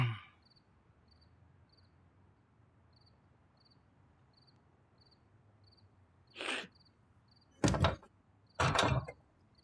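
A door closes indoors in a quiet home at night, landing as a few sharp thuds and knocks near the end, with crickets chirping steadily in the background.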